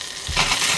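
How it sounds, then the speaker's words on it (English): Peeled pearl onions and crushed garlic dropped into hot olive oil in a pan, giving a brief burst of crackling sizzle that swells and holds, close and fairly loud. "Olive oil into the pan. Peeled pearl onions, crushed garlic. Into the pan it goes."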